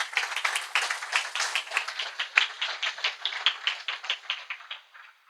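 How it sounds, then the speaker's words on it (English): A small audience claps after a helicopter safety presentation at a professional society meeting, with distinct individual claps in a loose rhythm that thin out and stop near the end. "a round of applause for GP"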